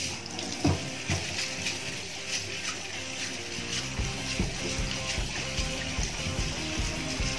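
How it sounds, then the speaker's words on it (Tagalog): Rabbit skin scrubbed with a scrubbing pad under running water, a steady close splash and rush of water with uneven rubbing strokes layered over it. "ang gagamitin natin ay scrubbing pad at saka tubig para ano, kukuskusin na natin"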